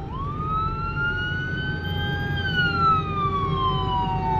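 A fire department siren wails nearby, one long sweeping tone that rises and then slowly falls over a low traffic rumble.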